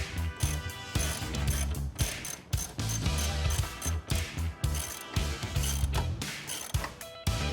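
A hand ratchet tightens door hinge bolts on a 1997 Ford F-350 truck being restored, giving a close, steady run of rapid metallic clicking strokes with brief pauses between pulls.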